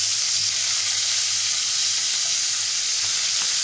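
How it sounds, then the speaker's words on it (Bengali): Tangra fish sizzle in hot oil, a steady loud frying hiss that runs unbroken and close, with no voices over it. "সব মাছগুলো দিয়ে দিয়েছি, দিয়ে এই মাছগুলো খুব ভালো করে ভেজে নেবো"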